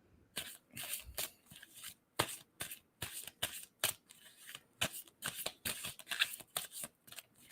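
Tarot cards being shuffled by hand, a steady run of crisp riffling and slapping bursts close up, repeated over and over with short gaps and no talking.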